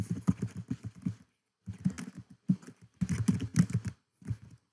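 A computer keyboard is typed on in quick bursts of close, crisp key clicks separated by short pauses, with no talking.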